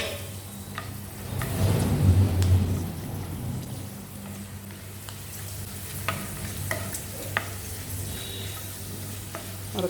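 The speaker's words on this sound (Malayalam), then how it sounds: "ഞാൻ അതിനകത്തോട്ട് പപ്പടം ഒന്ന് വറുത്തെടുക്കുവാണ്" Small cut papadum pieces frying in hot oil for a Kerala-style drumstick leaves curry, a steady close crackling sizzle with a low hiss and occasional sharp pops, busiest early on, with no talk.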